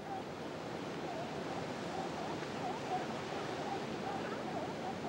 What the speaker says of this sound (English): This is the Pacific Ocean. Can you hear the waves?